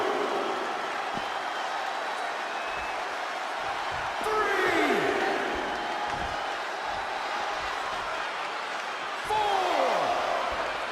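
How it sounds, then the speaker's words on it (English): A large arena crowd roars steadily in the WWE 2K20 wrestling game, swelling into louder cheers twice, with thuds and slams cutting through the noise. "you hear this capacity crowd following you on that journey."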